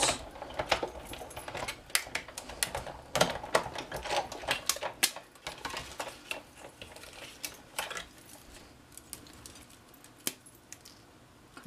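A die-cutting machine cuts a word out of white paper, making a run of sharp mechanical clicks and clacks in uneven bursts, busier at first and then thinning out, with no one speaking.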